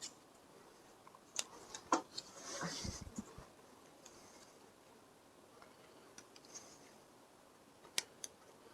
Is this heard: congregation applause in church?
no